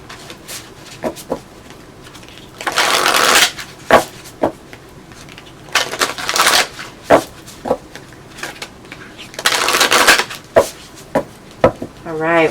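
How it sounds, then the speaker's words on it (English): Tarot cards are shuffled in several loud, riffling bursts lasting about a second each, separated by quieter taps and rustles of the deck close by. "All right, one more shuffle."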